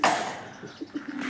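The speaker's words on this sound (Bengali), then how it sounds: "এগুলো সবগুলো হচ্ছে গিরিবাজ কবুতর" Giribaz pigeons in a loft give a few soft, low coos, spaced out after a brief louder opening burst of noise, heard close by with no talking.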